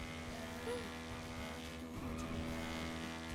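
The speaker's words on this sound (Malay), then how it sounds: "Laju gila motor ayah ni." A fast motorcycle engine hums steadily and loudly, its pitch rising and falling as it speeds along, with wind noise throughout.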